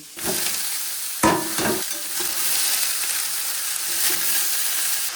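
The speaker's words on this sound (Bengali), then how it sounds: "পেঁপে আর গাজর একটু ভাজা হয়ে গেছে এবার একটু বাঁধাকপিগুলো দিয়ে দেবো" Papaya, carrot and cabbage sizzle steadily in a hot pan while a utensil scrapes and stirs them, with a couple of sharper clatters near the start.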